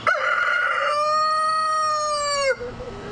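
A rooster on a backyard farm crows once, loud and close, with a stuttering start rising into a long sustained call that trails off after about two and a half seconds.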